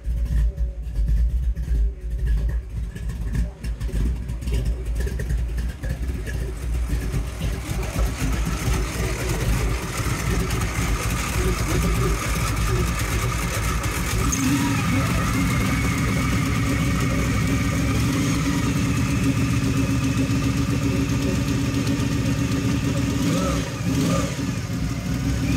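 1963 Ford Galaxie with a 460 V8 running solid lifters, Edelbrock heads and a tunnel ram with dual quads, idling loud and lumpy up close with a steady rumble and occasional blips, while someone talks over it.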